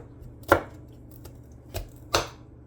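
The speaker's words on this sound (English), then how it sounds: "let me just chop the garlic" A knife chops garlic on a board in three separate, uneven knocks, close and fairly crisp, with quiet pauses between them.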